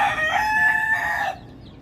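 A native hen with her chicks gives one loud, close, drawn-out call lasting about a second before it cuts off to quiet.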